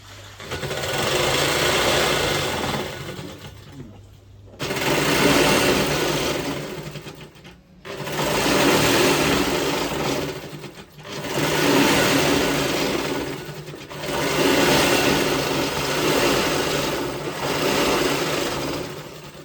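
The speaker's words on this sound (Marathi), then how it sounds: "पहिल्यांदा आपण आडव्या साईडने पूर्णपणे टीप मारून घेणार आहे" Domestic sewing machine running in long steady bursts of about three seconds separated by short pauses, stitching across a thick old quilt (godhadi) being covered with a saree.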